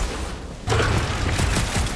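A heavy cannon is dragged out in the video game Guardians of the Galaxy on PS5, a brief quiet pause then a sudden loud grinding, scraping rumble that continues with rough thuds.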